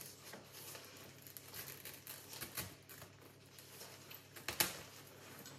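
Shears snipping through the stems of a large Monstera Thai Constellation houseplant during propagation, a few soft crisp cuts and leafy rustles, close and quiet, with a sharper snap near the end.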